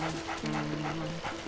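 A dog barks a few times in the Luigi's Mansion video game, short yips and whimpering yelps amid game sounds.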